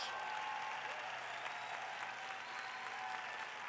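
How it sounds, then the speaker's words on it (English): Steady applause from a large audience at a Las Vegas product-launch keynote, a dense unbroken wash of clapping at moderate level lasting the whole stretch, with no voices standing out above it. "That deserves a big round of applause."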